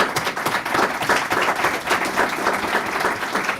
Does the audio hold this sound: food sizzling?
no